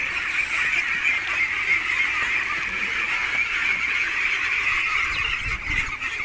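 A large flock of egg-laying ducks, some 400 to 500 birds kept on a small farm, quack and honk all at once in a dense, continuous chorus without pause.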